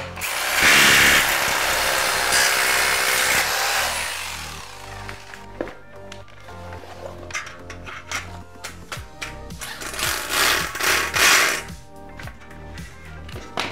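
Power screwdriver driving a screw into a wall plug during moisture-resistant drywall installation, a loud whirring burst at the start followed by shorter intermittent buzzing and clattering bursts of tool work.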